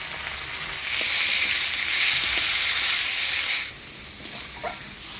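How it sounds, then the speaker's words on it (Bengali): Potatoes frying in hot oil with ginger, cumin, chili and onion paste, giving a steady loud sizzle and steam hiss that drops in level partway through as they are stirred. "আলুটা মশলা দিয়ে ভালো করে নাড়াচাড়া করে নিলাম।"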